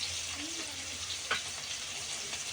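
Whole spices (bay leaf, cardamom, cloves, peppercorns, cinnamon) and sliced green chili frying in hot oil for prawn pulao give a steady, soft sizzle with a brief louder spurt midway, no voices.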